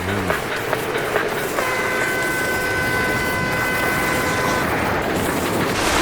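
A local tram runs in RTL Ski Jumping 2007 with loud rolling rail clatter and a long sustained horn-like tone, steady and near throughout, with no talking.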